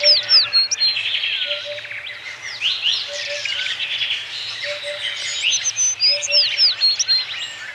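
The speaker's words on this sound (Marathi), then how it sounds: "चिमण्या येतात, दाणे टिपून जातात।" House sparrows chirping busily near a Mumbai home where grain is left for birds, rapid overlapping tweets in bursts with brief pauses, close and fairly loud.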